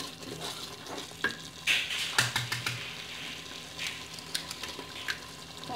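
Eggs being stirred quickly in a hot pan give a close, steady sizzle broken by frequent scraping and tapping strokes of the utensil, with a couple of sharper clicks.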